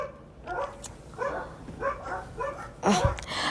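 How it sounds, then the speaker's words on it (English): Several distant dog barks in short bursts, muffled as if from outdoors, with a louder bark near the end over a low background hum. "Sorry about the dogs barking outside."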